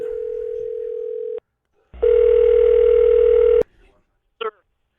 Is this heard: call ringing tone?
yes